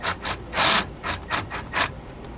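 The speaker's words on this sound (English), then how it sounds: "or we're gonna be using a 10 millimeter socket here." A ratchet with a 10 millimeter socket tightens the bolt on a heavy duty magnetic tow light, giving a series of close, raspy clicking strokes in an uneven rhythm.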